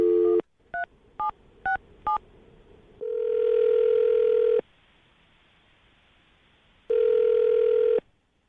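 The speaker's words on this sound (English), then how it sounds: "I'm going to dial the phone number right now, get her on the phone" A telephone keypad dials a number in a quick series of short touch-tone beeps. Two long steady ringback tones follow, separated by a pause. The sound is loud and close, with no voices.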